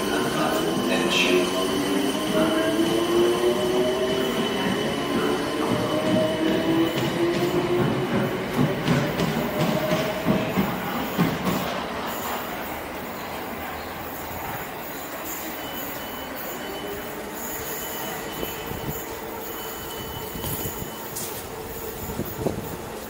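A train to Gatwick Airport rumbles at the platform with rising and falling whine and screech of wheels, the noise easing as it settles, with an announcement voice faintly heard.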